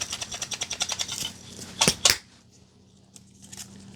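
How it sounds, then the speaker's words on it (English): Lids are screwed onto glass grain jars, which are then shaken: a fast run of rhythmic ratcheting clicks, two louder rattling bursts, then near quiet, all close and with no voices. "we can go ahead and tighten the lid, shake them upside down to distribute it evenly"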